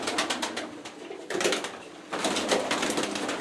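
Pigeons coo steadily at a crowded high-flyer pigeon fair, their soft repeated calls overlapping inside a constant hiss of background bustle.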